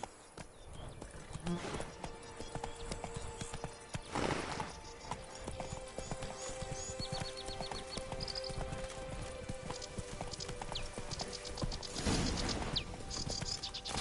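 Roach, the horse from The Witcher 3, clip-clopping with steady hoof beats under game ambience and mechanical clinks, with occasional louder bursts over a continuous background.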